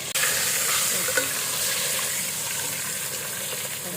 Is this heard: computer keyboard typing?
no